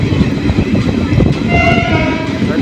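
A passenger train from Dhola to Bhavnagar rolls into Vartej station with a loud, rumbling clatter of carriages, while a brief sustained horn tone sounds partway through and a voice speaks underneath.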